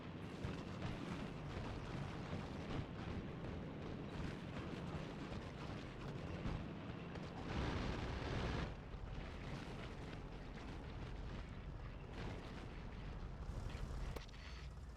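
Grenade explosions in the video game Factorio form a dense, continuous barrage of booms and bursts over about fifteen seconds, loud and steady, swelling around the middle, with no talk over them.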